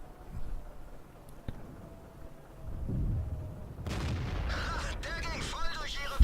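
A tank cannon shot in World of Tanks, played in an E25 tank destroyer, comes as a deep boom followed by rumbling battle noise, with a voice talking over the action.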